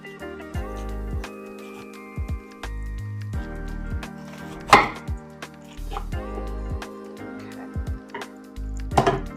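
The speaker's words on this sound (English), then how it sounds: "And cut your cabbage" A knife chops through a store-bought cabbage on a board, a handful of separate dull thunks spread out across the span, with some irregular soft handling and rustling of the leaves between the cuts.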